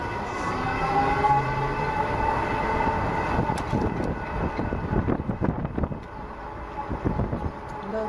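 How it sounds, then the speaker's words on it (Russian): A train rolls past a level crossing in a city centre, a steady rumbling roar with rhythmic clacking of wheels over rail joints, heard close from a passing car with wind noise. "Сейчас еще поезд. Как раз я проехала и поезд."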